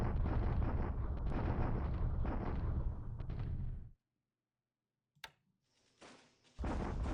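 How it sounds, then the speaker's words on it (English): Bombardment attack in the World War II strategy game War in the Pacific: a dense, loud roar of explosions and barrage that runs for about four seconds and cuts off abruptly, followed by a near-silent gap, one sharp crack, and a burst of renewed rumble. "Bombardment attack here."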